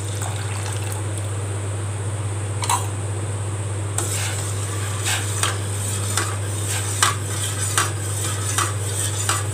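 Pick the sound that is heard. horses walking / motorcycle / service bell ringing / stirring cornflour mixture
stirring cornflour mixture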